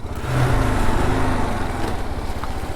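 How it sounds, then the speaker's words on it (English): A 2022 Kawasaki KLR650 ABS motorcycle brakes hard through off-road mud, giving a steady close engine rumble with a gritty low drone that holds throughout, without talk. "Heavy braking through mud."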